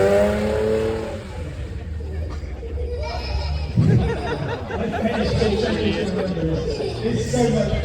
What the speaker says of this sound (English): you are definitely, absolutely, definitely controlling this car, Jacob.